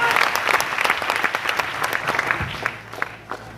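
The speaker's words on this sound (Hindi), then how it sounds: "जोरदार तालियां दोस्तों" Loud, dense applause from a crowd, steady clapping that gradually thins and fades toward the end.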